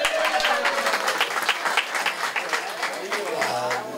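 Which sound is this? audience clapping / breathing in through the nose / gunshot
audience clapping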